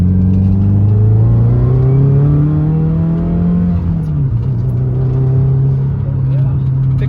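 A Subaru WRX, freshly fixed with a new MAF sensor and tune, accelerates hard at full throttle, its engine note climbing steadily, dipping briefly at a shift and then pulling again, loud and close from inside the car.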